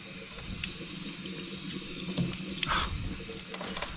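Water runs steadily from a hose or tap while a MerCruiser 3.0 boat engine is set up for testing, a continuous close splashing flow with a few small knocks and clatters.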